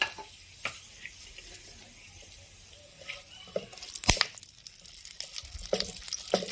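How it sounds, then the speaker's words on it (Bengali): Whole spices, including bay leaf, dried red chilli and cardamom, crackle in hot oil as tempering for Bengali rohu fish kalia. A faint, patchy sizzle with scattered pops grows busier and louder in the second half. "তেল গরম হয়ে গেছে, ফোড়ন দিয়ে দিলাম।"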